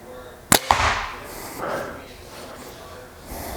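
A Bowtech Revolt compound bow fires with a sharp, close snap followed by a short ringing, ding-like twang that fades, then a voice talks softly in the background.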